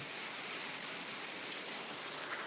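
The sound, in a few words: heavy rain with dime-size hail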